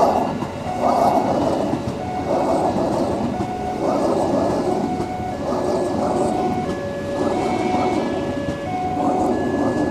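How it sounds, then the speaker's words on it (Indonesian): A commuter train rolls past near a flyover construction site in Tenjo, its wheels clattering in a steady rhythmic clack over the rails, loud and close, with faint voices in the background. "Tuh kereta masuk lagi tuh."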